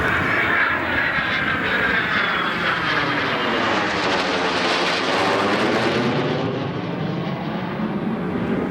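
P-51 Mustang airplane flying past at an airshow in Atlantic City, with a loud, sustained engine roar whose pitch sweeps and fades slightly as it moves away.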